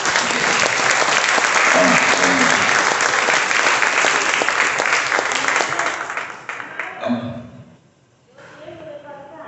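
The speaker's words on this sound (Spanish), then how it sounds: "Un aplauso a Jesús ahí, ¿ok?" A congregation at a deliverance seminar in Lakewood, New Jersey, bursts into loud sustained applause that fades out after several seconds, with voices talking over the end.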